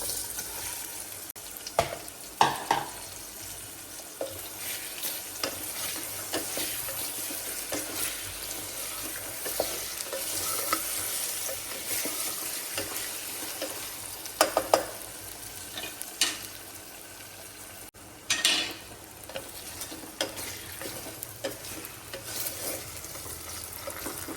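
Potatoes added to hot oil with asafoetida in a home kitchen pan, a soft steady sizzle with occasional stirring scrapes and clinks, fairly quiet with no talking.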